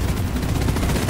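Dense, continuous gunfire from the sci-fi co-op shooter Deep Rock Galactic, a loud rumbling burst with steady rapid rhythm across a short stretch, no voices over it.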